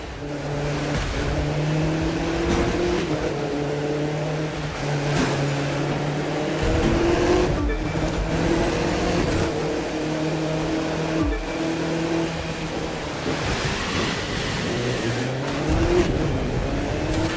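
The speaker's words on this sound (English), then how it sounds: "That car's really moving." A race car in The Crew 2 driving fast, engine droning loud and steady with rising and falling revs, gear-change drops and tire noise, continuous and close with no talking.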